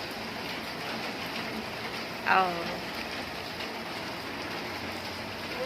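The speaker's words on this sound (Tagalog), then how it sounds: "Sobrang lakas ng ulan kung naririnig nyo lang." Heavy rain hisses steadily as a dense, constant wash, with a short spoken exclamation near the middle.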